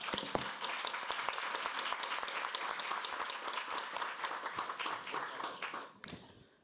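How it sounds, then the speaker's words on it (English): Audience applauding panelists at the close of a panel discussion on project facilitation in fragile countries, a steady crowd of clapping hands lasting several seconds before tapering off abruptly at the end. "Please share with me a very special clap, thanking to all panelists here."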